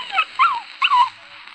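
Several dogs whimper and yip in short, high, whining bursts, close and clear, three quick cries in a row during an old-time radio drama.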